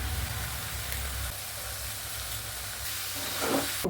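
Steady frying sizzle and hiss of eggs cracked into a hot pan with chopped long beans and spices, loud and continuous, with a brief clatter near the end.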